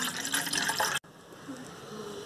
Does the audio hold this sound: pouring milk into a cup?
yes